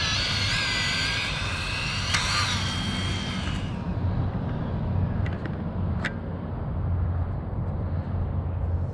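ARRMA Felony RC car fitted with a 27t pinion gear, its motor whining loudly and steadily at high speed after a tumble during a speed run; a continuous close roar with a bright high whine that fades partway through, no talking.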